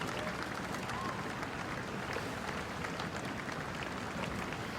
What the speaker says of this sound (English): Giving good applause.